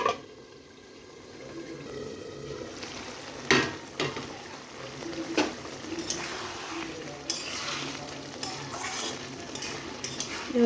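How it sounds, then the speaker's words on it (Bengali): Koi fish curry frying and being stirred in a pan, a steady sizzle with the scrape and clink of a utensil against metal at irregular moments, close and continuous with no talk. "এভাবে কষিয়ে নেব।"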